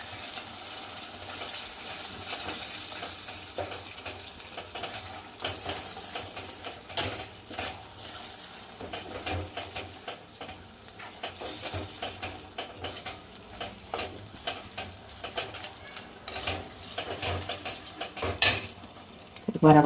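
A spoon clinks and scrapes in a pan while yogurt is stirred into a capsicum paneer curry, a soft sizzle underneath and irregular metallic taps, close and moderate, with no talking.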